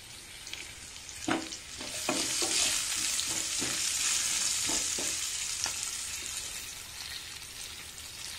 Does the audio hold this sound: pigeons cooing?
no